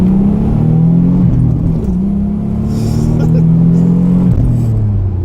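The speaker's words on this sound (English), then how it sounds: "we're going to end the video with a nice pull for you guys." A 1987 Nissan 300 ZX Turbo accelerates hard from inside the car, its engine droning loudly as it climbs through the revs, dipping briefly at two gear shifts before pulling again.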